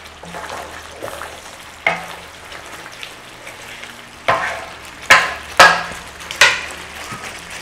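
Chicken jalfrezi simmering in a pan with a little water, a soft sizzle and bubble punctuated by several sharp clatters and scrapes of a utensil against the pan.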